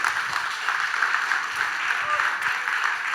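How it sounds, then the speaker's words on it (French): Audience applause welcoming a presenter at a live speaking event, a steady dense wash of clapping that holds evenly throughout with no speech over it. "Vous l'applaudissez pour le lancer?"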